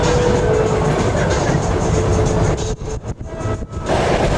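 A passenger train rolls through the Polish countryside, a loud steady rumbling roar heard from inside, with a brief stretch of uneven clattering before the even rumble resumes.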